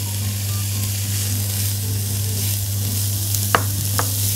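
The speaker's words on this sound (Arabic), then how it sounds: "أنا بس بشوحهم كده تشويحه بسيطه" Colored bell peppers being sautéed in a pan for eggplant pasta, giving a steady, close sizzle over a constant low hum, with a couple of brief utensil taps near the end.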